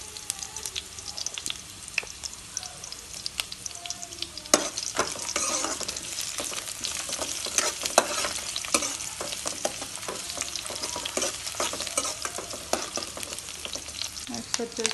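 Dried red chillies frying in hot oil for Karnataka-style bisi bele bath, a steady close sizzle with crackling pops and occasional stirring clinks throughout, no voices.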